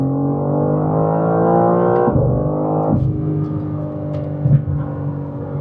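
A BMW M4 CSL launches hard and accelerates, its engine roaring loud and close through rising revs, with sharp breaks between gears as it shifts up.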